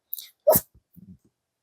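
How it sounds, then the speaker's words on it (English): A single short, sharp sneeze from a cat, close by, followed by a few faint snuffles and a soft sniff. "my cat just sneezed"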